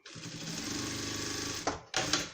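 A sewing machine stitches a seam on a fabric toiletry bag, a fast, steady mechanical whirr of needle strokes that runs close and even, then stops briefly and starts again.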